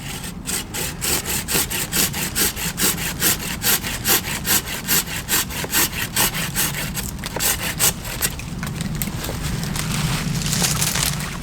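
Hand saw cutting through a tree branch for timber outdoors: steady, rhythmic back-and-forth rasping strokes, loud and close, continuing for several seconds and shifting to a rougher grind near the end.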